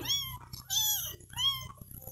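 Small kittens, rescued after being abandoned in a closed box in a town square, now kept at a rural smallholding, give two or three high, thin meows in quick succession, close by with no one speaking.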